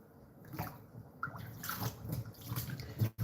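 Tilapia fish being rinsed by hand in a bowl of water, with soft close sloshing and splashing in uneven bursts, fairly quiet, ending in a brief louder splash.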